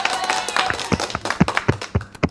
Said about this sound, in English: Sorry, I used a little clapping.